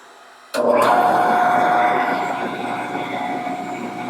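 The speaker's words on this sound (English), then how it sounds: "I'm going to turn on the Shopsmith" After a moment of quiet, a Shopsmith woodworking machine switches on with a sudden loud roar and keeps running steadily with a whirring hum, powered by a 24V 4000W pure sine wave inverter.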